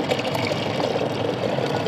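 Water soaked with rotted onion peels is poured onto a lemon plant, giving a steady, continuous splashing pour that stays even and close throughout with no talking.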